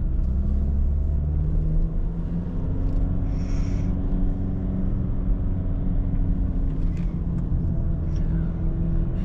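A turbocharged 115 hp car drives a serpentine mountain road near Leptokarya, Greece, its engine droning steadily with deep rumble and road noise throughout, close and loud, with no voices.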